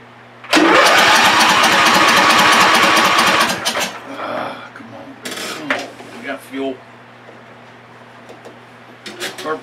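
A John Deere LA145 lawn tractor engine catches and roars loudly with a rattling, clattering run for about three seconds, then cuts out, leaving scattered knocks and brief mechanical noises.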